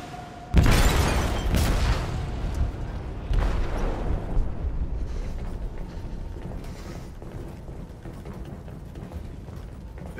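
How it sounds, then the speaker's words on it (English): An explosive detonates in a ship's hull in Detroit: Become Human: a sudden heavy boom followed by a second blast, then creaking, grinding metal and rumbling debris that slowly settle. "They detonated an explosive in the hole."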